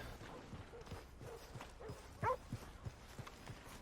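Horse walking in the Old West game Red Dead Redemption 2, soft rhythmic clip-clop of hooves, fairly quiet and close, with faint ambient sounds and a few sharper knocks.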